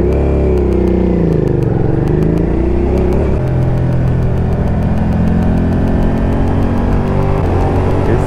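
A motorcycle carrying a first-time passenger, its engine note loud and close, rising and falling as it shifts, then settling into a steady drone with wind rushing past.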